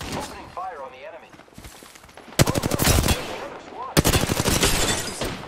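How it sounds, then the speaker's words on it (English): Rapid automatic gunfire bursts in a squad-based shooter video game, loud crackling volleys in two long stretches, with game character voice lines and chatter in between. "Opening fire on the enemy."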